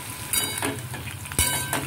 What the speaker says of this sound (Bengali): প্রথমে আগে এই মশলাটা দিয়ে ভালো করে আমাকে কষিয়ে নিতে হবে।